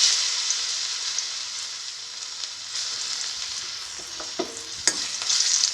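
Banana pieces frying in a pan give a steady close sizzle and crackle, with a few soft stirring taps near the end.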